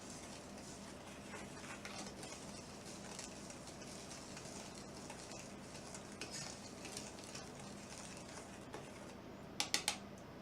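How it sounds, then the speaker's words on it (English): Epsom salt and cornstarch are whisked together for bath bombs, a steady scratchy stirring and scraping that runs without a break, close by, with a few sharper clinks of the whisk near the end. "take our whisk and whisk well."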